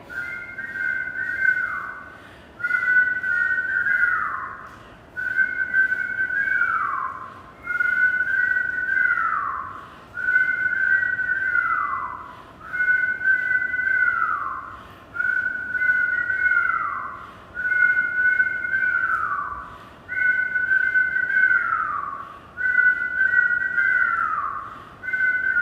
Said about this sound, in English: Then you're going to blow as though you were whistling.